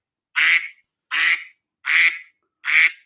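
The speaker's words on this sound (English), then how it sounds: "So when you hear the Quacky Quiz duck" A duck quack sound effect used as a quiz cue on a comics and coffee show, four evenly spaced loud quacks ringing out alone against silence.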